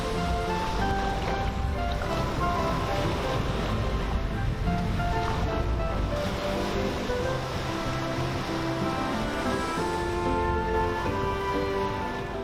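High ocean surf washes and crashes continuously around former UDT/SEAL veterans swimming at sea without fins, a loud, dense roar of waves with wind buffeting the microphone and no clear voices.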